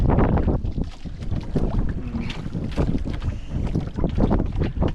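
Strong wind buffets the microphone on an open boat, a loud continuous roar with gusty surges and engine-like rumble beneath.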